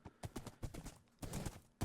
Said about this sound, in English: We have a horse.